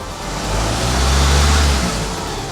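A Renault car with an EDC6 DW6 / Getrag 6DCT450 dual-clutch gearbox revs gently during an oil change, the engine hum swelling smoothly to a mild peak and settling back, loud and close, with no talking.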